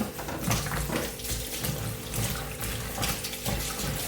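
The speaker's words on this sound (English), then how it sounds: "I'm going to rinse it again." Tap water runs steadily into a kitchen sink as okra is rinsed under it, a close, continuous splashing stream with slight fluctuations from handling, and no voices.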